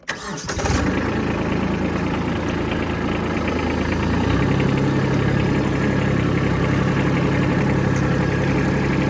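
A Kubota B2601 compact tractor fitted with tire chains runs in low gear, its engine droning loud and steady throughout, close by, with no talking.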